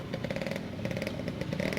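Motorcycles fitted with loud racing exhausts rumble close by during a police exhaust raid on a street in Manokwari, a rough, pulsing engine note with rhythmic bursts and clattering, no talking.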